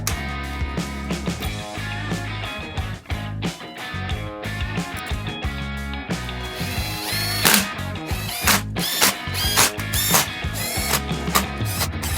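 A power drill drives screws into the chassis of a $5000 RC mega truck, with loud close bursts of whirring and ratcheting clatter, short pauses between runs, and no talk.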